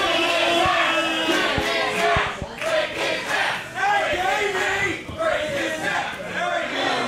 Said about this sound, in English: The crowd chanting, break his neck, in reference to that neck brace that he wears.